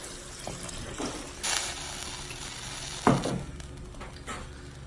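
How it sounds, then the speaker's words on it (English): Two cups of water go into a hot cooking pot already holding taco-seasoned food, giving a steady sizzle with splashing bursts as each pour lands, close and moderately loud. "I'm going to add 2 cups of water."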